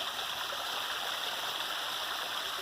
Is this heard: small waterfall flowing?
yes